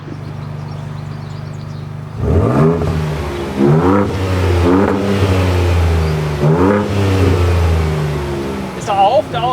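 A 2024 Ford Ranger Raptor with a 3.0-litre V6 EcoBoost engine, automatic gearbox and open exhaust revs repeatedly in loud close bursts, each rising and falling back to idle, with voices talking over it.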